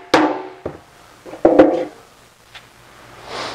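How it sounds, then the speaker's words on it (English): Sheet metal panel having its shrinks hammered down during shaping, a few sharp metallic hammer blows with ringing decay, spaced irregularly and close by. "We just hammer them down."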